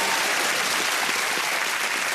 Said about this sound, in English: Simon and Brian, let's give them a cheer.